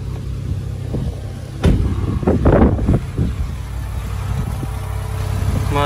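A Lexus RX450h hybrid SUV engine idling smoothly, a steady low hum with a brief rise in revs partway through, heard up close and alone.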